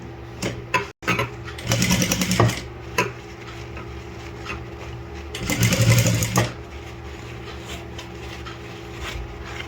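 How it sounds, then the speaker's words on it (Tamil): A sewing machine stitches a sleeve in two short bursts of rapid mechanical whirring, separated by quieter handling and clicks, close by with no speech. "ஸோ இது 1 இன்ச்சுக்கு மேலே இப்படி வச்சு கரெக்டாக அந்த சென்டர்லேயே ஸ்டிச் பண்ணிடலாம்."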